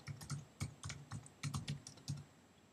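A password is typed on a computer keyboard: about a dozen close, quiet key clicks in an uneven rhythm with short pauses between bursts.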